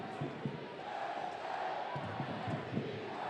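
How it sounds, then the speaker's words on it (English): Stadium crowd at a professional soccer match at Toyota Field, San Antonio FC against Swope Park Rangers, producing a steady wash of cheering and crowd noise throughout, with scattered shouts and thuds in the distance and no clear talk. "Crowd coming alive here at Toyota Field."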